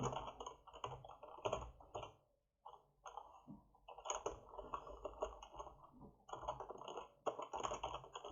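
Fast clicking keystrokes on a computer keyboard come in quiet bursts with short pauses between them, close and faint.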